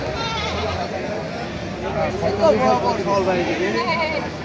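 Goats at a busy livestock market in Thakurgaon district bleat in short wavering cries during the second half, mixed into a constant background of crowd chatter and talking nearby.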